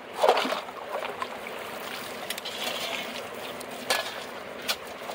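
Gold-panning gravel from Fairplay, Colorado is worked through a 1/4-inch screen in a bucket of water, giving close sloshing, trickling and gritty scraping with a few sharper splashes, no talking.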